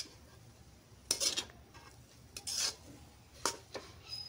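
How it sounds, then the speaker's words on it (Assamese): Veg chowmein noodles tossed in a pan after red chili sauce goes in, giving three or four short, rough scraping strokes with quiet pauses between them and no talking. "এতিয়া আকৌ এবাৰ ভালকৈ লৰাই দিছোঁ।"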